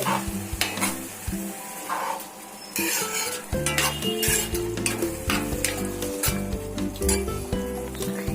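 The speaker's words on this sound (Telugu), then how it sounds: "మసాలా పొడి వేసుకోవాలి వేసుకొని కలిపి కలిపి" Masala powder being stirred into a prawn curry in a pan, with steady loud sizzling and frying, repeated spoon scrapes and light metallic clinks against the pan, close and continuous.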